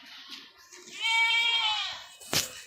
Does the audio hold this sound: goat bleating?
yes